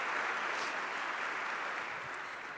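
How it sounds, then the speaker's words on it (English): Steady, sustained applause from a conference audience at a Cradle to Cradle event on strategy for Europe, a dense even wash of clapping with no talk over it. "give a big applause"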